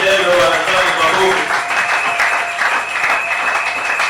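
A congregation applauds during a Sunday church service, a burst of clapping from many hands that carries on steadily under a voice speaking over it.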